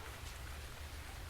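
Steady rain falls across an island in the survival video game Stranded Deep, a dense, even hiss with a low rumble beneath it, continuous and close throughout.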